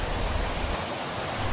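Small river rushing steadily toward a waterfall at a forest campsite, a dense, continuous broadband wash of water with no pauses, close and fairly loud.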